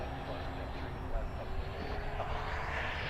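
A Taft Hobby Valkyrie 90mm electric ducted fan RC jet makes a high-speed pass, giving a steady whooshing fan roar at moderate distance that holds fairly even throughout.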